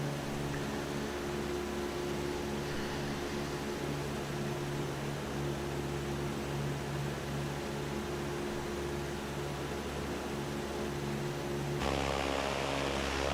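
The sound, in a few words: propeller aircraft engine in flight simulator game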